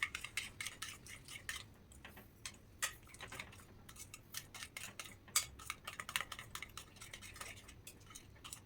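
A spoon stirs a nut filling mixed with two spoonfuls of coconut, producing rapid, irregular clinks and ticks of metal against a bowl, close and fairly quiet, with no talking.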